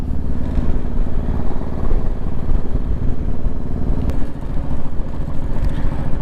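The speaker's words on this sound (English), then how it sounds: "riding your motorcycle" A motorcycle engine thrums steadily at close range as it rides along a coastal road near Englewood Beach, Florida, with a low throbbing rumble and some wind noise.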